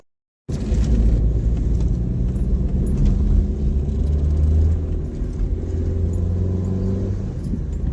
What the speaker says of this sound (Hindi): गाड़ी चलती है दूसरे तीसरे गियर पे, कभी कभी तो पहले गियर पे चलानी पड़ती है।